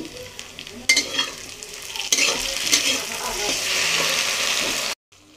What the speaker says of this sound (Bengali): এবং এটা ভালোভাবে আরেকটু 2 মিনিট ভেজে নেব